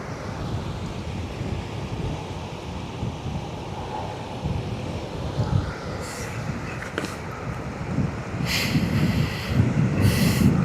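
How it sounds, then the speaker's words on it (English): Steady low rumbling wind buffeting a microphone at the Westerschelde shoreline in the Netherlands, constant throughout and swelling louder toward the end, with brief hissy gusts near the close. "How's the wind noise today?"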